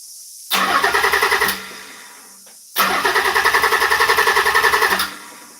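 An old car engine cranks twice: two bursts of fast, rhythmic starter churning, each lasting one to two and a half seconds, loud and close, separated by a quiet pause, with no catch into running.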